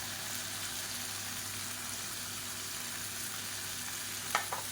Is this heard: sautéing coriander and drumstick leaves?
yes